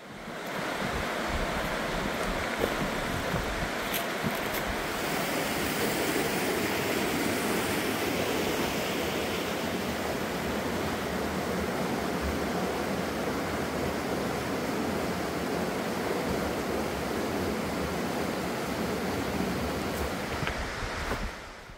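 A mountain valley stream flows in a constant, full rush of water, close and steady the whole time, with no voices.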